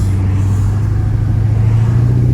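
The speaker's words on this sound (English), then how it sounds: "Listen to the temperament of that LS motor. It is nice and smooth." A 1972 Chevrolet Chevelle with an LS engine accelerating, a loud, smooth, deep engine drone heard from close by, steady and unbroken.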